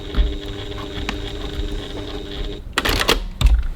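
A sewing machine back tacks a handbag seam, a short clattering burst near the end after a low steady hum.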